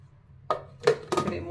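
A knife slices dry coconut pieces thin on a board while making peanut chili powder, giving three crisp cutting knocks in quick succession, close and clear.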